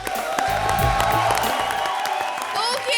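A studio audience on a comedy show breaks into loud applause and cheering, with whoops and scattered voices over the steady clapping.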